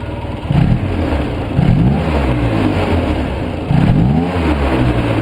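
A Polaris 700 engine with a freshly tuned carb and idle revs through its exhaust in three loud surging pulls, each rising and falling back to a rough, steady idle between them.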